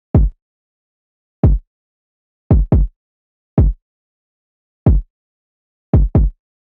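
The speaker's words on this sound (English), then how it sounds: "So I just came up with a simple drill kind of kick pattern that ended up sounding like this" A drill-beat kick drum plays alone, each hit a deep punchy thump with a fast decay, in a sparse syncopated pattern that includes quick doubled hits.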